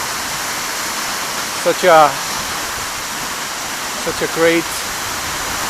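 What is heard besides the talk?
Seljalandsfoss waterfall roaring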